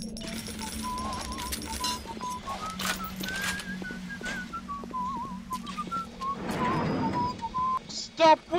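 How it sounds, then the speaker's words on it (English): A person whistling a wandering, slightly wavering tune that runs for several seconds, with faint clicks and a brief burst of noise near the end. "Stop whistling!"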